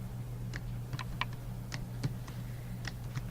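Someone types JavaScript code on a computer keyboard, with irregular, close key clicks over a low steady hum.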